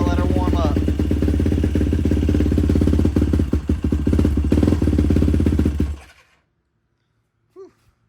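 Yamaha YFZ450 ATV fitted with a Dasa exhaust idling as it warms up, a loud, deep, steady engine rumble close by that cuts off abruptly near the end, followed by silence and a brief faint sound.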